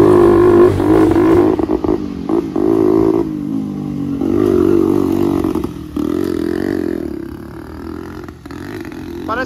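A turbocharged, fuel-injected supermarket-cart go-kart engine revs hard, its loud buzzing roar climbing and dropping through several bursts of acceleration, with rattling and scraping underneath as it tails off.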